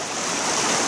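Water rushing from a gravity dredge pipe onto a slick plate during gold dredging in New Hampshire, a steady broadband splashing hiss, close and loud, with no talking.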